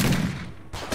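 Gunfire in a battle scene between American and British soldiers, a single loud, close burst of shots filling about a second, with a brief second crack near the end.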